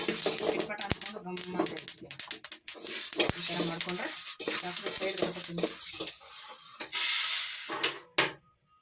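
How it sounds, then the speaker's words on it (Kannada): Horse gram dry-frying in a pan, with rapid gritty scraping and rattling stirs interrupted by short pauses, a faint hiss beneath, and a voice talking at times. "ಹುಳಿಕಾಳು ಚೆನ್ನಾಗಿ ಫ್ರೈ ಆಗಿದೆ"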